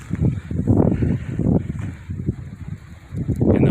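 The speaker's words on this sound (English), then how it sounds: "Winds are blowing." Wind gusts in uneven surges across the microphone at Point of Rocks Roadside Park on a scenic highway loop in the Davis Mountains, rising and falling in loud buffeting waves.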